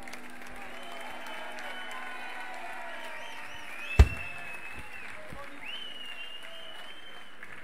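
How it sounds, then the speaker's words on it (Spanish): Rock concert crowd at the FeneRock 2018 festival applauding, a steady wash of clapping with sustained high whistle-like tones drifting above it and a single sharp knock midway. "Ese aplauso para a persona."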